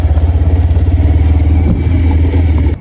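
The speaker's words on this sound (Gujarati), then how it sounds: "આજે બાઇક લઈને જાઉં છું" A motorbike engine running close by, idling with a steady, rapid low throb that stays loud throughout and cuts off abruptly at the end.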